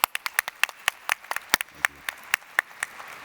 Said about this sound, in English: I'd like everyone to join me in clapping out Jason and thanking him for his service this last 3 years